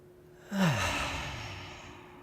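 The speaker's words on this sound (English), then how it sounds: "join me in just taking a nice deep breath" A single deep, audible breath drawn in and then sighed out slowly in a quiet room during a guided relaxation, close and unaccompanied by talk.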